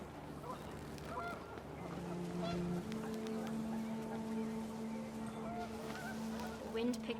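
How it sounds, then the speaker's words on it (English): Panicked geese honk in the video game What Remains of Edith Finch, a layered chorus of steady, droning honks over wind, continuous and moderately loud throughout. "The wind picked up, and panicked geese appeared and quickly went."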